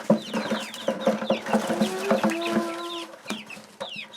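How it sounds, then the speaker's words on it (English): Chickens cluck steadily in a busy, close-up chorus, with overlapping calls and a few longer drawn-out notes among the short clucks. "Here we go, little chickens."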